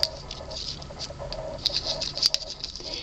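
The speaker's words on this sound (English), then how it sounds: "I'm tapping it pretty hard and it just does not give at all" Hard tapping on a durable artificial flower: a quick, irregular patter of small, light clicks and taps, faint and close, with a few sharper knocks.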